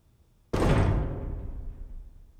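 In the indie horror game ColdSide, a door is smashed open with a shoulder: one heavy, close thud that hits abruptly, followed by a booming rumble that slowly fades away.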